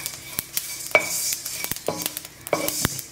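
Fenugreek and fennel seeds dry-roast in a pan, with brisk scraping and rattling strokes of a spatula and a light crackle, close and moderately loud, with no voices.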